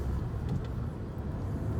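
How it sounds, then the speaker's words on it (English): Road traffic in Sarnia, Ontario makes a steady, constant rumble and roar of passing vehicles with no clear breaks, heard continuously and fairly loud. "You'll see what traffic's like"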